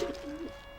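Medic's pet dove Archimedes from Team Fortress 2 gives a short, soft coo, a single rising-and-falling call close by, heard alone without talk.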